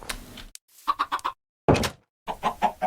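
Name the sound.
chickens clucking in a video game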